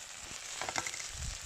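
Stir fry sizzling in a pan, a short burst of crackling hiss with a few scraping stirs and a low clunk toward the end, close and moderately loud.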